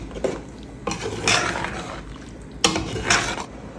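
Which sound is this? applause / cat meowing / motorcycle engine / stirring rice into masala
stirring rice into masala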